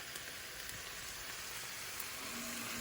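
Ackee and saltfish sauté in a pan with a steady, soft, even sizzle that holds at a low level throughout.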